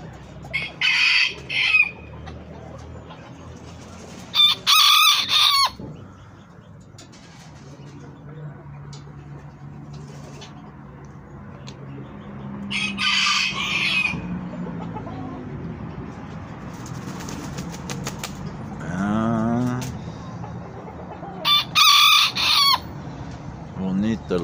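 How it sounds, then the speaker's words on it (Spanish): A small black toy rooster crows several times in loud bursts, with clucking and soft background talk between the calls. "Bonito el gallito, bonito, bonito."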